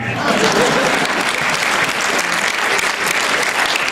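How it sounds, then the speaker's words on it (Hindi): Loud, dense applause from a poetry-reading audience fills the hall continuously, a steady roar of many hands clapping with no pauses. "मेरे स्वागत में दोबारा जोरदार तालियां बजाएं"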